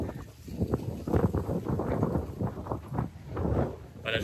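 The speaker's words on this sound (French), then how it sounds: "il y a un vent de fou" Strong wind gusts buffet the microphone of a runner on a 10 km run, producing loud, uneven low rumbling bursts that rise and fall.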